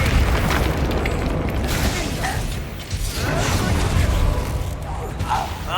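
Spell explosions go off in the Hogwarts Legacy video game as loud booming blasts and rumbling impacts layered over dense game noise, with voices shouting throughout.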